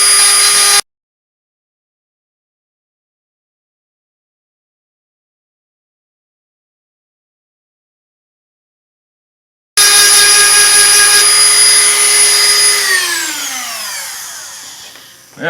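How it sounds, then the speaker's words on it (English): Power grinder working on a tuning key from a 1914 Gibson L-1 guitar, a loud, harsh whine that cuts out, returns after a long silence, then spins down to a stop. "We'll grind off this one."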